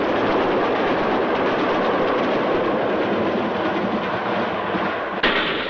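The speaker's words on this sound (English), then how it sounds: "5041 Tiverton Castle speeds through Bicester on an up express." Steam locomotive 5041 Tiverton Castle racing through Bicester on an up express in 1963, a steady, loud rushing roar of the passing train with rhythmic wheel clatter, ending in a brief sharp change near the close.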